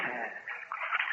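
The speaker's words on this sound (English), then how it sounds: "Water poured into our raft with every splashing wave" Waves slosh and splash water into a life raft at sea in a radio drama scene, a continuous watery rush that swells and churns for about a second with no voices over it.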